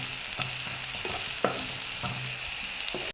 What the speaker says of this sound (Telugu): ఇప్పుడు ఈ ఆనియన్ బ్రౌన్ కలర్ వచ్చేంత వరకు వేపుకుందాం ఫ్రెండ్స్